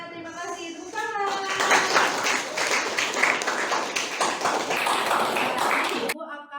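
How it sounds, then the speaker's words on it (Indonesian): Classroom applause from a group of schoolchildren, a dense burst of clapping that starts after a teacher's brief spoken prompt and runs steadily for about five seconds before stopping abruptly. "Tepuk tangan."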